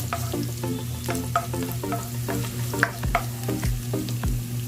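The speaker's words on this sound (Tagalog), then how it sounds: "Lagay na natin yung ating bawang. Dahil magigisa na tayo." Garlic sautéing in hot oil in a pan as the base for a pork dish: steady close sizzle with repeated scraping stir strokes and a low hum underneath, with no talking.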